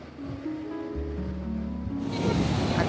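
Ocean waves wash onto the beach at Puri, a faint tonal hum giving way to a soft, broad surf hiss that swells in the last second.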